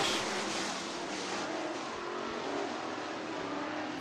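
Race cars roar around a dirt speedway in an IMCA heat race, their engines forming a loud, continuous rumbling wash that swells slightly as the cars pass, with no commentary heard over it.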